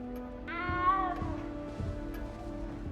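A cat in the Hogwarts Legacy video game lets out a single drawn-out meow near the start, heard over steady game music and ambience.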